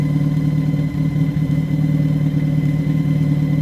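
Failing pump on a Mitsubishi EVO 8, a loud steady mechanical drone with a constant whine running alongside the engine, unbroken for a few seconds.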